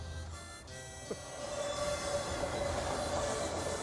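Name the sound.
train passing a crossing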